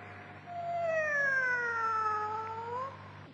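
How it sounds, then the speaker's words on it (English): Cat duet from Ravel's opera L'Enfant et les Sortilèges, with voices sliding through drawn-out meowing glissandi that rise and fall over a soft orchestral hum, heard alone and fairly close. "The cat duet from Ravel's L'Enfant et les Sortilèges, conducted by Lorin Marzal."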